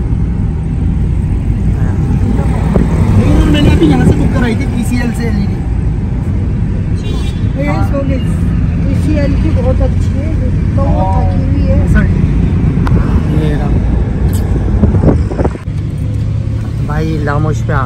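A car drives through traffic with a steady engine and road rumble throughout, while people talk inside the vehicle over the continuous noise.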